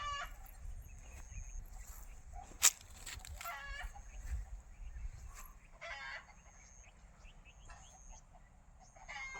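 Chickens cluck and squawk intermittently at a moderate distance, with a few sharper calls over a quiet outdoor background.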